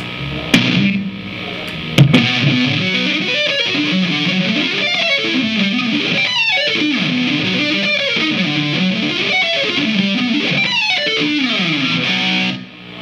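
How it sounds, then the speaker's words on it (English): Heavily distorted electric guitar plays fast sweep-picked arpeggio runs in 3/4 time, in a steady rhythm, loud and sustained, with no voices. "Distortion."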